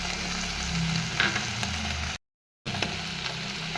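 Cauliflower frying in a pan for chilli kobi, a steady close sizzle with a short dropout of silence partway through.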